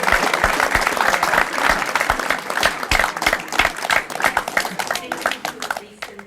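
An audience applauds steadily for several seconds to welcome a speaker at a film society screening, a dense wash of clapping that thins toward the end.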